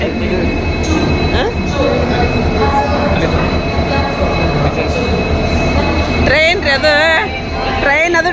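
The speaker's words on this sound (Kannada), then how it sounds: "ಇಲ್ಲಿ ನೋಡ್ರಿ ಇಲ್ಲೇ ದೊಡ್ಡ ಟ್ರೈನ್ ಐತಿ" A train rumbles loudly at a station, wheels screeching and squealing toward the end, with people talking in the background.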